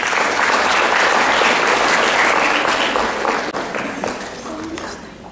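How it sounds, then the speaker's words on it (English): Loud, dense audience applause fills the whole stretch, steady at first and then thinning slightly toward the end, with crowd murmur mixed in. "A round of applause, please."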